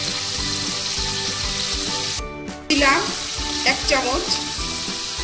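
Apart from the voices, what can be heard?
chopped ginger added to hot pan with warm water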